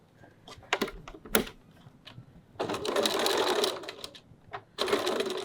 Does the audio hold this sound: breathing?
no